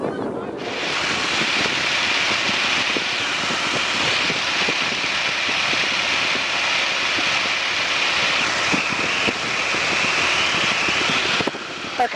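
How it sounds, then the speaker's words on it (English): A light airplane's engine drones loud and continuous through takeoff and into the climb, with heavy wind buffeting the microphone. "Just allow the airplane to accelerate."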